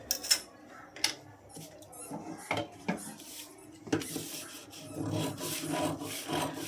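Blouse fabric for a katori blouse is cut up close, giving intermittent crisp snips and rubbing scrapes against a quiet background.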